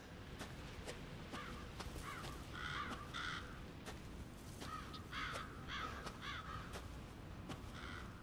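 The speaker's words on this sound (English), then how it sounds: "Crows." Crows cawing in Resident Evil 7 Biohazard, a flock of harsh, repeated caws in short overlapping bursts over a steady rustling ambience, fairly close and clear, with no voices.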